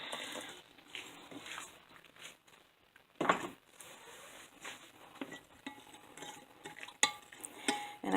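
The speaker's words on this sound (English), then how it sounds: "I'm cleaning out the measuring cup with about 2 cups of boiling water" A utensil stirs honey and boiling water in a measuring cup, with close, irregular scraping and clinking against the cup's sides and a sharp knock partway through.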